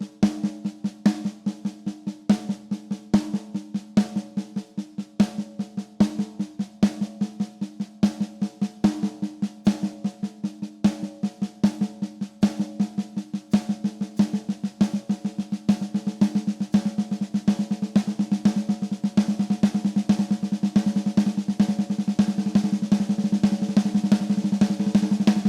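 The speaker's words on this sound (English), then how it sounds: "we're going to have two paradiddles to begin with and a paradiddle-diddle on the end" Snare drum plays a steady rapid stream of paradiddles and paradiddle-diddles grouped in 7/8, crisp even strokes with periodic louder accents, close and continuous with no talking, gradually building toward a denser wash near the end.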